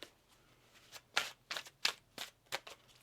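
Tarot cards shuffled by hand in a series of about six crisp riffling bursts, loud and close, with short pauses between them and no talking.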